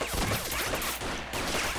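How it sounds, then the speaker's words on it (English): Dense gunfire in a video game, with a steady wall of rapid overlapping shots that barely lets up and a brief dip about two thirds of the way through. "That is so many bullets"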